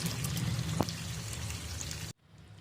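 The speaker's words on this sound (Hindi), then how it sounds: "तो अब हम इसमें ये चने शामिल कर देंगे जो हमने बॉईल करके रखे हुए हैं।" Boiled chickpeas tip into a thick chana masala gravy in a kitchen, a close, soft continuous wet pouring and spattering rush that stops abruptly near the end.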